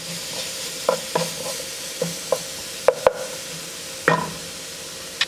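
A spoon stirs food in a pan for a chicken mac and cheese, giving a series of short scraping strokes at an uneven rhythm over a faint background sizzle, close and moderately loud.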